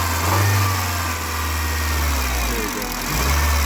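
A Honda Civic 1.7 VTEC engine with a faulty VTEC solenoid is revved close up, a strong low drone that rises in two surges, dips in between and climbs again at the end, with a rough vibrating edge.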